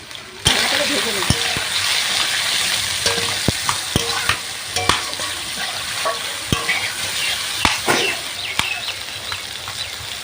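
Ridge gourd frying in oil with turmeric, a constant close sizzle punctuated by frequent sharp clinks and scrapes of a spatula stirring in the pan, with a voice speaking over it.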